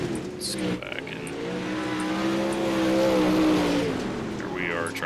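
Race car engine revving hard in the iRacing dirt game, a Pro Late Model at Lincoln Speedway, a loud sustained roar rising and falling in pitch while the car makes noise without moving much, with some talk over it.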